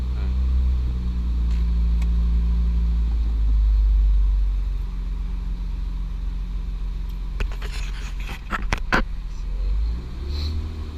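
A 2006 Honda Accord with a J30 engine runs on a dyno, a steady low engine drone rising slightly in pitch, with faint clicks and rattles near the end.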